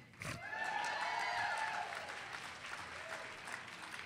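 Applause from a conference audience swells quickly and holds steady for a few seconds, then thins out, with cheers and whoops rising above the clapping.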